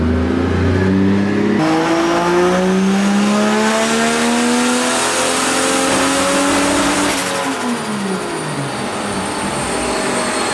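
A turbocharged Toyota Supra engine roars loudly and continuously, revving up and down as it accelerates hard with wheels spinning, with a rising and falling tone throughout.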